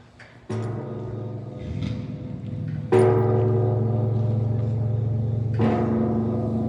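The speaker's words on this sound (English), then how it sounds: "It's not the dainty little wind chimes you're used to. It's quite loud and very bassy." Deep, resonant wind chime tones strike three times, each ringing loud and long with low humming overtones that linger between strikes.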